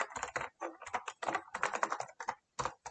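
Close, quick computer keyboard typing while entering sign-up details for a new teacher account, keystrokes coming in rapid bursts separated by short pauses, with no talking.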